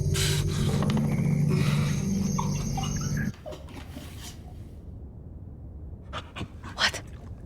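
Dog panting and whimpering in the Silent Hill 2 Remake video game, a loud rhythmic breathy pant over a droning background that cuts off abruptly, followed by faint scattered clicks and a quieter tail.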